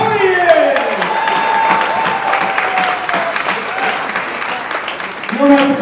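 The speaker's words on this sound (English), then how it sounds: "Just wanted to get more applause for you because you showed up." An audience at a board of education meeting applauds with dense, moderate clapping, while voices talk and call out over it.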